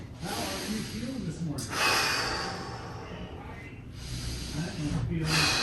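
Slow, hissing breaths out during a passive stretch, long airy exhales recurring several times at close range, with a voice speaking in between.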